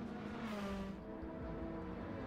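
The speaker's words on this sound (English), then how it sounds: "I think it's a 2023 Supra. Overshot the shit out of it because I wanted to accelerate through the corner." 2023 Toyota Supra in Gran Turismo 7 accelerating through a corner, a steady droning engine tone with rising harmonics, loud and continuous for the whole stretch.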